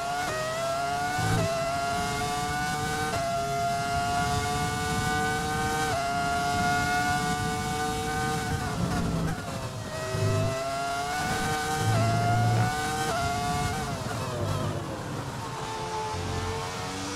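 A Ferrari F2004 Formula 1 car in the F1 2020 video game revs hard and accelerates repeatedly, its high-pitched engine whine climbing through gear after gear, loud and continuous with short dips at each shift.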